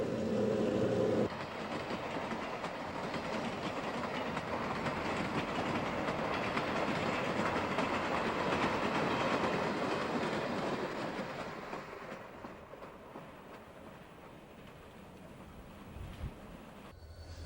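Wabash Railroad train SC-1 rumbles across the Huron River Bridge at French Landing between Romulus and Belleville, a steady loud roll of wheels and cars with clickety-clack that eases off toward the end.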